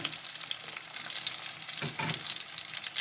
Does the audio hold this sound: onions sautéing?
yes